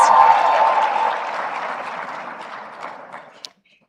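An indoor forum audience claps together to welcome a speaker in grand African outfit. The applause is loud and sustained for about three seconds, then thins and ends abruptly with a few last claps, with no talking.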